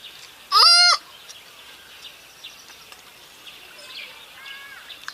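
A chicken at a market gives one loud, short call close by, followed by faint, scattered bird calls and quiet background noise.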